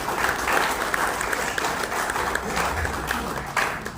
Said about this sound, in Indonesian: Tepuk tangan buat kita bersama.